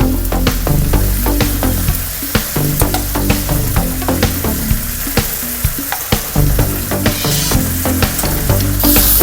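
Coleslaw lands in a hot stir-fry pan with beef gochujang noodles and crackles loudly and densely, with rapid spattering pops over a constant close sizzle and no talking.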